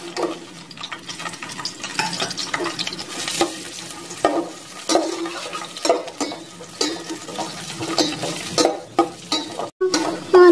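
Onions frying in hot oil in a handi for aloo matar pulao, a steady close sizzle broken by frequent scraping stirs and light clinks of a metal spoon against the pot, with no talking.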